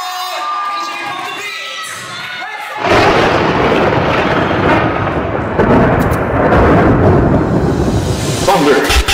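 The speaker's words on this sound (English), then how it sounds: "Thunder." Thunder bursts into a loud, sustained rumbling roar after a few quieter seconds of faint tonal background, then keeps rolling heavily to the end.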